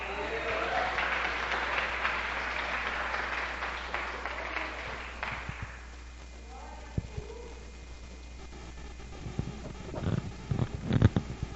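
Church congregation applauding during a Portuguese-language worship service, a dense sustained clapping wash that fades after several seconds, followed by scattered claps and quieter room sounds.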